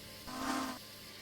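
A steam locomotive whistle from the Duchess of Sutherland on a heritage railway gives one short, steady blast of about half a second, heard at a moderate distance over a hissing background.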